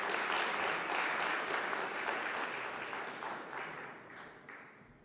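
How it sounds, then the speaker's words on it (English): A press conference audience at URC 2024 applauds the signing of a bank agreement supporting Ukrainian SMEs, a full steady round of clapping that slowly softens toward the end, fairly quiet overall. "A round of applause on this signature."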